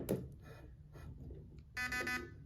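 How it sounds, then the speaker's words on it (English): A brief electronic beep chimes from a Novritsch SSR4 MK2 airsoft gun as its battery is connected, followed by a louder buzzing tone near the end, over low background hum. "you'll hear a tiny beeping sound from the gun"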